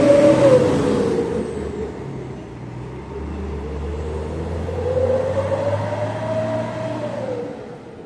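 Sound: bus being maneuvered into parking

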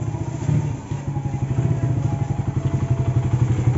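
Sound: Suzuki Satria FU motorcycle engine running after service

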